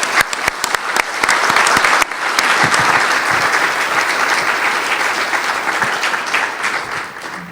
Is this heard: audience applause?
yes